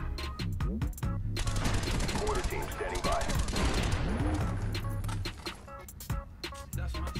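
Suppressed Galil rifle fire from a Call of Duty game, dense rapid bursts of muted shots with mechanical clatter, continuous for several seconds before thinning into scattered reports.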